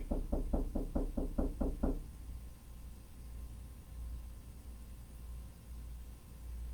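Eight quick, evenly spaced raps on a door land in about two seconds, fairly close and crisp, followed by a steady low hum of background noise with no voices.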